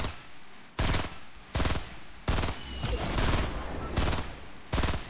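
Bursts of automatic gunfire in the Fortnite battle royale video game, several loud rapid volleys separated by short pauses, fired up close with no speech over them.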